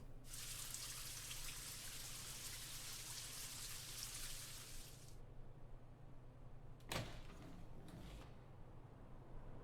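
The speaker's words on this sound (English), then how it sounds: "Just a quick shower today." A shower runs in the video game Spirit Hunter: NG, a soft hiss of spraying water for about five seconds that then stops, followed by a few faint clicks and knocks.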